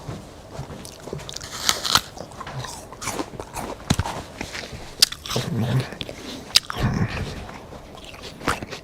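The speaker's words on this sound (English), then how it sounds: "Give you some ASMR chewing." Close-miked ASMR chewing recorded on a GoPro during a livestream, with irregular crunchy bites and wet mastication clicks repeating for several seconds at a loud, near level.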